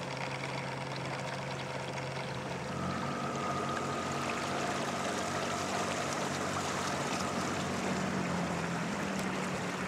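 Boat motor trolling a fishing lure out behind the boat, heard as a faint steady engine hum mixed with rushing water, continuous and without talk.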